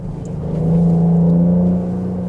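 A 2023 Genesis GV70 engine revs up with a deep, throaty exhaust note, rising and holding briefly before settling back to a lower rumble.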